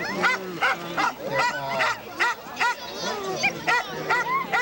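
A team of eleven sled dogs barks and yips in rapid, excited bursts, close and loud, with overlapping voices repeating every half second or so.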